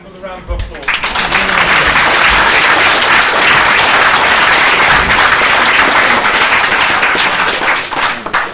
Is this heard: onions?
no